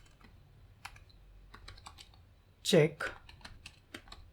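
Keys clatter in irregular bursts as someone types a short JavaScript program on a computer keyboard, with a brief stretch of speech partway through.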